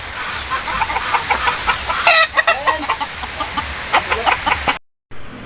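Chickens cluck close by outdoors near Antipolo City, in a series of short, repeated calls with one louder burst midway. The clip ends in a brief dropout.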